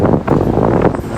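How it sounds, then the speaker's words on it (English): Strong, gusty wind buffets the microphone outdoors on Broadway by a federal building and courthouse, a loud, continuous rumbling roar with surging gusts and no talk. "Once again, it is a fairly blustery day."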